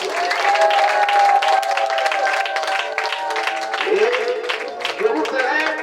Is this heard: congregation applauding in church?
yes